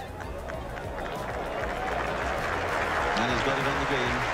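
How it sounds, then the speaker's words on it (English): A golf crowd running across the 18th fairway at the Open, a broad rumble of many footsteps and murmuring spectators mixed with scattered clapping, steady and fairly distant. "the crowd traditionally running across the 18th fairway"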